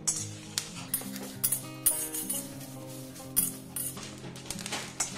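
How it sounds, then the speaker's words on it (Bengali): Mustard seeds are dry-roasted in a pan for amla pickle, heard as soft, scattered clinks and light scraping while they are stirred, fairly quiet and with no talking. "এবার আমি সর্ষেটাও দিয়ে একটু ভেজে নেব।"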